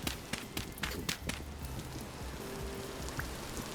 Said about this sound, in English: Hopefully you can hear me over this rain.